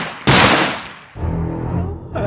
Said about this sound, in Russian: Это пока что только предупреждающий выстрел был